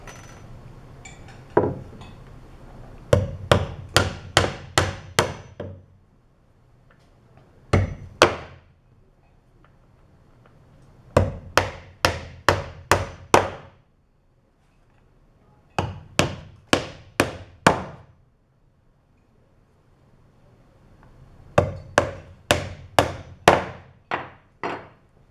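A hammer driving nails into the wooden frame of a homemade trebuchet, sharp close blows in quick clusters of four to six strikes separated by short pauses, loud and clear with no talking.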